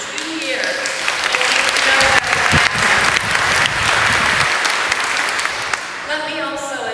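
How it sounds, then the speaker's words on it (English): Sustained round of applause from a crowd at a community challenge event, steady and loud for several seconds before easing toward the end. "Sean Fitzpatrick, deserves a huge round of applause."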